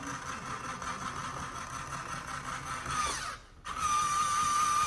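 The motor of a Run Chicken automated chicken coop door whirs steadily, with a brief dropout before a thin, high whine resumes at close range.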